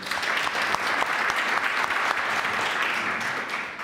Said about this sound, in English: So a bit of applause for them.